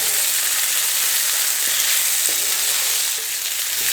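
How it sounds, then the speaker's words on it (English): Beef being seared and stirred in a pot for red beans and rice, a steady close sizzle with a few soft scrapes of the spoon against the metal, no voices. "So we just going to sear this pretty much."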